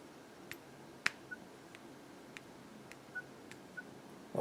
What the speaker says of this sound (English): Now as you can hear, the keypad tone is activated.